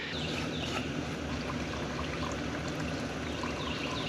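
Water poured down an irrigation well pipe on a farm, a steady, full rushing gush that runs continuously at close range with no pauses and no talking.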